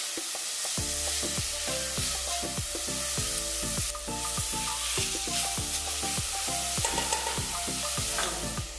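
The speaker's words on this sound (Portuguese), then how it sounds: "Então vamos esperar essa cebola dourar" Chopped red onion sizzles in olive oil and palm oil in a pan, a continuous loud frying hiss broken by regular scraping and stirring strokes throughout.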